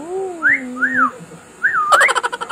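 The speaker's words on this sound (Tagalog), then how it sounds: "Sisipulan mo. Poging sipol." A person whistles a few short rising-falling notes, like a playful wolf whistle, close and clear, followed by a burst of chattering sound.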